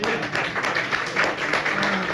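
An audience at a monthly business club meeting claps and calls out together, a fairly loud, slightly uneven burst of applause with scattered voices rising through it.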